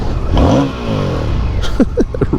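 A 2024 Indian FTR R Carbon motorcycle engine revs up loudly close by, then settles into a choppy, uneven idle with sputtering bursts.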